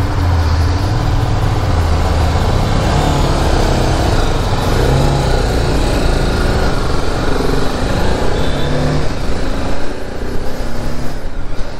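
Several BMW motorcycles idle and rev together at a showroom meeting point, a steady, loud, close engine drone with layered low rumbles and no talk.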